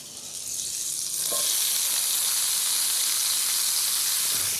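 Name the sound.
butter sizzling in a hot pan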